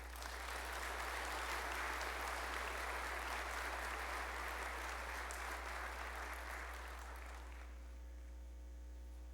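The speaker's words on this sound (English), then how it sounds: "Please give a big round of applause to Ron Thompson." Sustained applause from a large crowd, steady and dense, gradually fading out at the end over a low hum.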